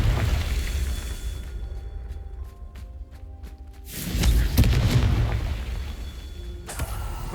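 Confringo fire spell blasts in Hogwarts Legacy: a deep booming explosion swells after a quieter stretch of faint tinkling magic, loud and close with rumbling tail, no talk.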